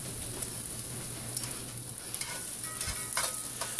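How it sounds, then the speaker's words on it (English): Garlic sizzles steadily on medium heat in oil left from frying pork chops, with a soft continuous crackle and occasional scraping stirs against the pan. No one speaks. "I'm going to go ahead and saute the garlic in the oil that was left over from frying the pork"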